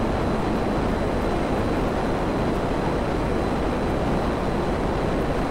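Continuous loud broadband roar of a jet aircraft flying in Grand Theft Auto 5, a steady engine rush filling the whole stretch with no breaks and no voices over it.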